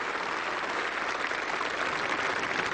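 Crowd at an England versus West Indies Test cricket match in 1988 applauds a batsman, producing a steady broad roar of clapping that holds at an even level throughout.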